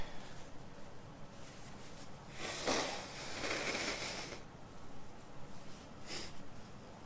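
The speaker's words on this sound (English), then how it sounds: "I'm just going to blow my nose" A person blows their nose in a couple of loud, breathy bursts, a long one near the start and a shorter one later, with no talking.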